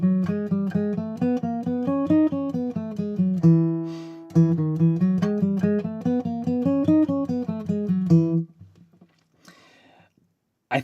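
A guitar picks a quick melodic line built around upper and lower neighbor tones, with evenly spaced notes in two matching phrases, each ending on a held low note, then faint handling noise and near silence.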